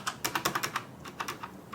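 Fingers tap quickly across a Logitech G710+ gaming keyboard, a burst of about a dozen soft, close keystrokes in an uneven rhythm, muted rather than clicky, with no talking.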